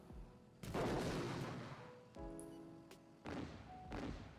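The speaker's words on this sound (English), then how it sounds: "Oh, there's artillery. Yo, artillery, let's go." Artillery fire in the Power & Revolution 2023 Edition war game: a few heavy, loud booming shots a second or so apart, each with a sharp thud and a lingering rumble, plus faint tonal game sounds between them.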